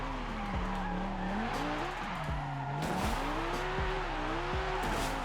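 A Lamborghini drifting in Forza Horizon, steady engine drone under repeated rising and falling tire squeals as the car slides, loud and continuous throughout.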